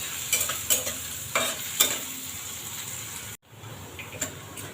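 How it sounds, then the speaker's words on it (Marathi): Chopped onion fries in a pan for a Maharashtrian kurdai vegetable dish while a spoon scrapes and stirs it, making repeated close scraping strokes over a soft steady sizzle, with a brief cut in the sound partway through. "कांदा छान लाल करून घेऊ आपण आता याच्यात."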